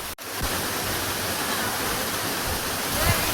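A waterfall at Jatashankar during the monsoon rain roars as a steady, dense rush of water that fills the whole scene evenly from start to finish without a break.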